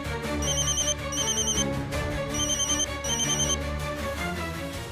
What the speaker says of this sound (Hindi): ऐसे ही एक गांव में आजादी के बाद पहली बार मोबाइल की घंटियां बजने लगी हैं।